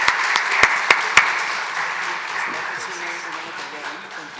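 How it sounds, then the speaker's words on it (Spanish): An audience applauds panelists at the close of an education discussion, opening with a few sharp close claps before settling into a sustained softer round of clapping, with faint voices beneath. "un aplauso fuerte para estos panelistas"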